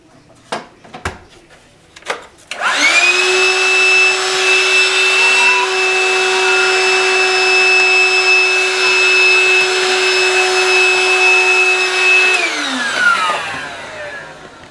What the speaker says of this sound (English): go ahead and hit it with the vacuum again